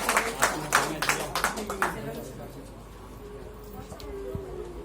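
Applause for a speaker at a student gathering: a burst of clapping that lasts about two seconds and then fades. A voice follows, speaking over a quieter background.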